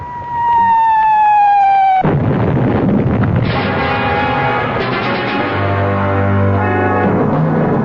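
A bombardment in a drama: a falling whistle-like tone gives way to a loud, sustained rumbling roar of explosions that continues to the end, with no talking.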